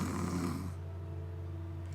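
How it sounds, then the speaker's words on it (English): A character snores in the Hatoful Boyfriend video game, one short snore over a steady background tone, fading into the quiet hum. "Snore."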